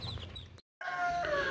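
A grown hen clucks in short, close calls, with a brief cut partway through and a louder stretch of clucking after it, with no talk.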